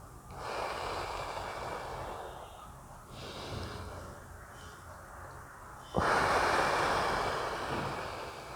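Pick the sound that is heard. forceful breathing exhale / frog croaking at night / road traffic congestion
forceful breathing exhale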